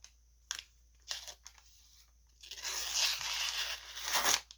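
A knife blade slicing and tearing through thin receipt paper, a few short rips followed by a longer crinkling tear, close and fairly loud with no talking.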